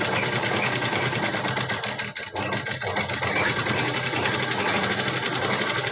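A sewing machine rattles rapidly while stitching the back side of chudidar pant fabric, a close, continuous buzzing run with a short pause partway through.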